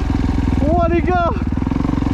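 A Kawasaki motocross bike's engine on a supercross track, a steady close buzzing drone with a brief rev that rises and falls in the middle, while someone talks over it.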